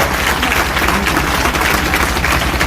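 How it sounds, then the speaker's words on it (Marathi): An audience at a public felicitation event in Karjat town gives loud, sustained applause for teachers and officials, a dense, even roar of many hands clapping close by. "एकदा जोरदार त्यांचा सत्कार आपण टाळ्या बाजून केला"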